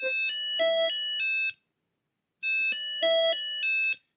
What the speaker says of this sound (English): There's also a chime that will play that is on the device